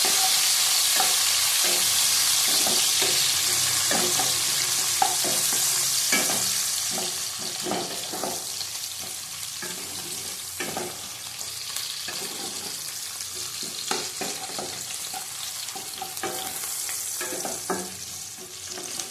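Green chillies frying in a pan, stirred steadily, with a loud continuous sizzle, scraping strokes and clinks running throughout, slightly quieter in the second half.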